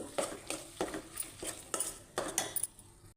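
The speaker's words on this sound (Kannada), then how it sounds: "ಇಷ್ಟೆಲ್ಲ ಮಿಕ್ಸ್ ಮಾಡಿದ್ಮೇಲೆ ಕಡಲೆ ಹಿಟ್ಟು ಸೇರಿಸ್ತಾ ಇದ್ದೀನಿ" Mashed potato and gram flour mixture being stirred in a pan, with about six distinct scraping, clinking strokes of a utensil against the metal in an uneven rhythm, close up and with no talking.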